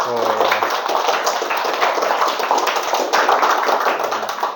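A classroom of students claps together in a dense, continuous patter, with a teacher's voice speaking briefly at the start and end.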